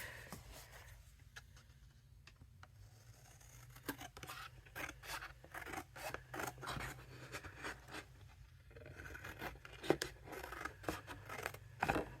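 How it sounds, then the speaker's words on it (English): Big scissors snip through paper while making an Easter egg shaker card, a series of close, crisp cutting strokes in irregular bursts, quiet at first and then steadier, with no talking. "Grab my big scissors."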